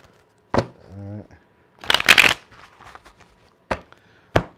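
A few quick riffles and snaps of tarot cards being shuffled by hand, sharp bursts separated by pauses, with a person talking in between.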